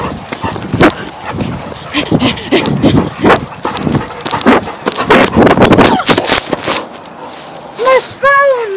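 A Labrador retriever at play barks and yelps amid a busy, clattering scramble of thuds and scuffles, with a higher whining cry near the end; the sounds are close and loud, and voices mix in throughout.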